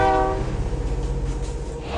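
Train passing with its horn blaring loudly at the start, followed by a heavy rumbling roar and rhythmic wheel clatter, close and dominant, with no voices.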